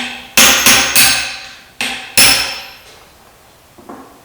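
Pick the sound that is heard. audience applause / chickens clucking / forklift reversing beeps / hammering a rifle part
hammering a rifle part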